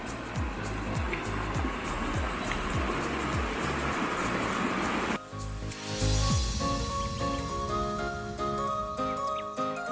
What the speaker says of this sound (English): This is Wright Creek.